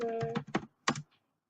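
A few quick computer keyboard keystrokes, entering a customer name into a search field in a database form, come as short clicks close to the microphone, spaced in a small irregular burst with no talking.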